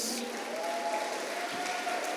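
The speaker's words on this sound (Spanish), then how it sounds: "Dale un fuerte aplauso a nuestro Dios." A church congregation applauds together after a call to praise God, a steady dense patter of clapping at moderate level, with a faint sustained tone running underneath.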